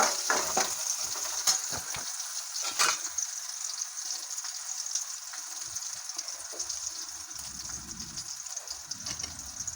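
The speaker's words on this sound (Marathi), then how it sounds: "लसूणाचा देखील कच्चेपणा जाईपर्यंत लसूण चांगला परतून घेऊया" Coarsely crushed garlic frying in a pan for a potato bhaji, a close sizzle with bursts of stirring and scraping early on that settles into a quieter steady crackle.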